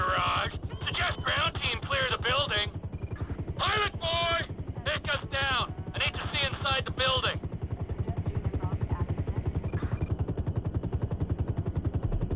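Police helicopter in the video game Grand Theft Auto V, a steady rapid rotor chop running throughout, with game dialogue heard over it for the first part.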